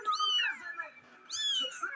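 Kittens meow close by in a garden house, two clear, drawn-out high cries separated by a brief pause.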